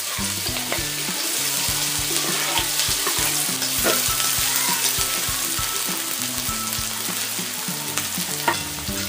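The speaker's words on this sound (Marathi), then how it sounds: "तेल गरम झालं की थोडी मोहरी घालायची जिरं कापून घेतलेला पातीचा कांदा तो यामध्ये घालायचा आहे" Spring onion, mustard seeds and cumin frying in hot oil for a Khandeshi aubergine dish, a loud, dense, continuous sizzle with faint crackles and occasional stirring, close by and unbroken by speech.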